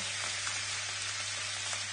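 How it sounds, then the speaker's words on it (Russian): Turkey pieces fry in a hot pan until golden, giving a steady, close sizzle with continuous crackling spatter and a constant low hum underneath, no voices. "Обжариваю ее до золотистой корочки."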